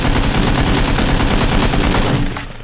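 Rapid automatic gunfire from a shooting video game: a loud, steady stream of close shots for about two seconds that cuts off abruptly at the end.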